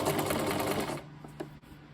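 A sewing machine stitches a straight line in a quick, even patter of needle strikes, close and moderately quiet, slowing and stopping after about a second.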